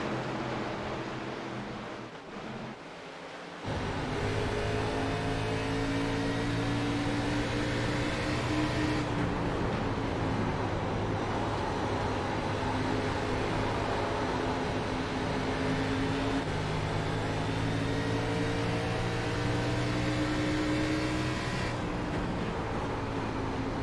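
ARCA Series stock cars roaring together on a restart at Iowa Speedway, a dense, steady engine drone from a pack of cars that rises after a brief dip and holds loud throughout.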